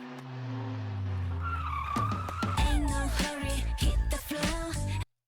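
Car tyres skid and squeal as a sound effect within a pop song, a rising screech over thumping music, followed by a flurry of dense engine and tyre bursts before cutting off abruptly.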